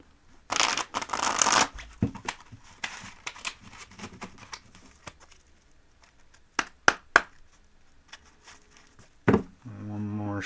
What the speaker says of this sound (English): One more shuffle and then a cut.